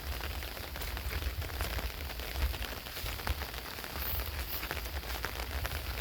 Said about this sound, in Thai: ฝนยังบ่เศร้า